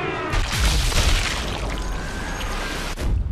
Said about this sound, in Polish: to będzie piękny strzał